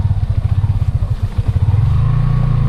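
A motorcycle putters along a muddy dirt road between Villaba and Consuegra in Leyte, its engine loud and close with a rapid, uneven chugging throb that steadies into a smoother drone near the end.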